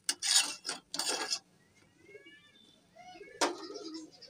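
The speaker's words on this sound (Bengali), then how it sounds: "টমেটোগুলো দিয়ে একটু নেড়ে চেড়ে দিলাম" A utensil scrapes and clatters in a pot as boal fish head is stirred with sour tomatoes and plums: two bursts of scraping up close, a quiet pause with faint sounds, then one more scrape.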